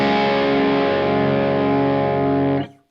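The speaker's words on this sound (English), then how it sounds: "that's with 2 medium gain overdrives stacked up" An electric guitar runs through two stacked medium-gain overdrive pedals, ringing one thick, sustained distorted chord loud and close before it cuts off sharply near the end.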